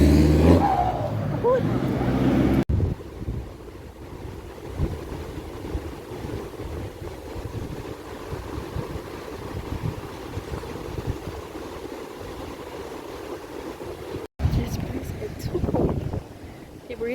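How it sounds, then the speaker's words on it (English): Sea breeze buffets a microphone by the coast at Grand Riviere, a steady blustery roar, loudest at the start and end, with talking at the edges. "that sea breeze is hitting"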